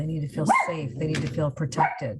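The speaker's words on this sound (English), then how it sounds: "That's my dog barking while I'm filming." A dog barks a couple of times indoors while a person talks over it, the barks partly masked by the speech.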